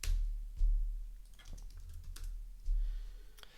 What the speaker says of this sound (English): What am I typing?